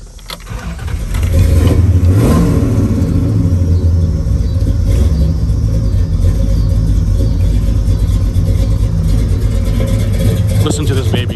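A 1967 Pontiac GTO engine cranks and fires up with a deep rumble, then settles into a loud, lumpy idle with occasional revs, close by.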